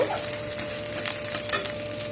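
Crushed ginger and green chilli fry in a pan with a continuous close sizzle, and the spoon or spatula scrapes and stirs through it now and then.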